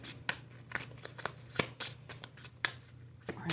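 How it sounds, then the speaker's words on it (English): Tarot cards are shuffled by hand close by, a series of sharp riffling flicks and soft slides coming in irregular bursts, quiet and alone with no talking. "Give this a good shuffle, we will get started."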